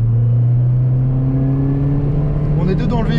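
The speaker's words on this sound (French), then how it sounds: "Niveau moteur, du coup, on va se faire une petite reprise. Je me mets en 3 à 70." A Peugeot 206 RC with two people aboard pulls hard in third gear from 70 km/h, its engine droning loudly and steadily with a pitch that climbs gradually toward the end.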